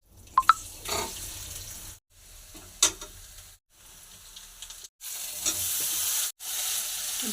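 Boiled drumstick flowers sizzle and get stirred in a pan in short bursts, broken by brief pauses, with scraping and a watery hiss, fairly close and moderately quiet, no one speaking.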